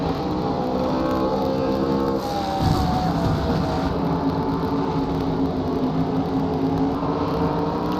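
Onboard engine roar from Burt Myers' number 1 modified race car during a 2008 Modified Tour race at Bristol, a steady loud drone with shifting pitch sweeps as the car circles the track.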